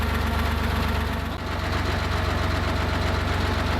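A Porsche engine idles steadily after a 15K service, a loud, even mechanical rumble with a constant low pulse and a brief dip partway through.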